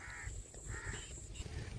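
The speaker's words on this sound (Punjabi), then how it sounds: "ਇਹਨਾਂ ਨੇ ਪੂਰਾ ਰੌਲਾ ਪਾ ਰੱਖਿਆ ਚਾਰ ਪੰਜ ਕਾਂ ਨੇ" Four or five crows caw repeatedly at a shrimp farm, harsh calls overlapping in short bursts over a constant outdoor hiss and low rumble.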